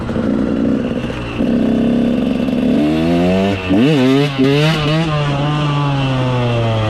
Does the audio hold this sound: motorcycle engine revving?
yes